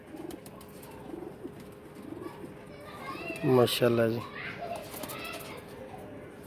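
Teddy pigeons cooing in a loft, a burst of deep rhythmic coos rising near the middle over steady background chatter and children's voices, with someone speaking briefly.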